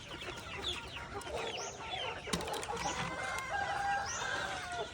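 Rhode Island crossbreed chickens cluck and call at a moderate distance, several overlapping birds with scattered short clucks and a drawn-out call, fairly faint against an outdoor background.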